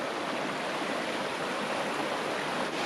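A small creek flows beside a narrow use trail, a steady, dense rushing of water close by that holds an even level throughout with no voices.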